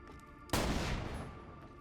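A Jakobs shotgun fires once in Borderlands The Pre-Sequel, a sudden loud blast that decays over about a second with a ringing tail.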